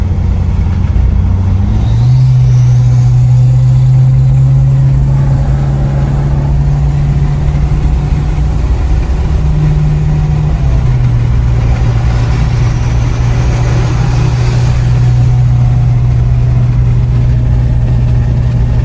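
A 2018 Ford F350 diesel pickup with compound turbos accelerates: a loud, steady low engine drone that shifts pitch a couple of times as it pulls, with no talking.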